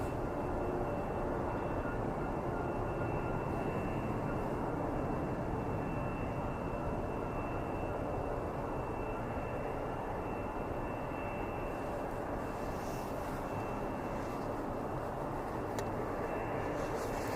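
A Republic Airways plane flying for United Express at Ottawa airport, a faint, steady, broad rumble that holds without a break, distant and with no voices over it.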